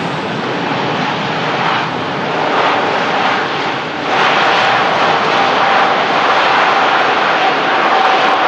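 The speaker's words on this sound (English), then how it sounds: "Beautiful, beautiful touchdown from the 380." An Airbus A380 touches down and rolls out on the runway, producing a loud, sustained jet roar that dips briefly and then swells back up, with no voices over it.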